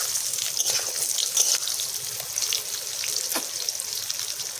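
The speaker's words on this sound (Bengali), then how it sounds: "ফোড়নটা হয়ে গেছে, এর মধ্যে আমি আলুগুলোকে দিয়ে দেবো। আলুগুলোকে ভালো করে ভেজে নেব।" Potatoes fry in oil over a whole-spice tempering with a steady, fairly loud hiss and small bubbling, dripping pops, and no voices.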